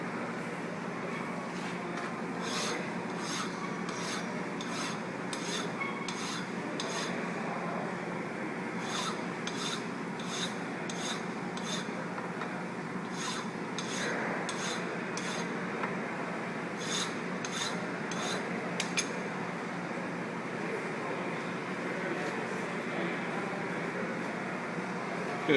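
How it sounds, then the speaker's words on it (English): A hand file rasps across a machined metal block to deburr its edges, in close, rhythmic strokes that come in bursts with short pauses, over a steady shop hum. "First thing I do is deburr."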